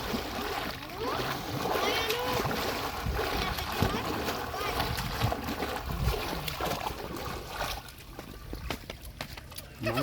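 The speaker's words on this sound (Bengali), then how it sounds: "এই চাচা ডুব দিল।" A man diving into water outdoors, with splashing and sloshing water over running ambient noise and intermittent voices nearby, the water sounds irregular and moderately loud throughout.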